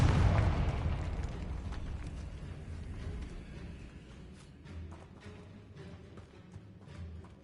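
A Confringo blasting spell detonates in Hogwarts Legacy, opening with a loud burst that fades into a rumbling, crackling tail with scattered small pops over several seconds.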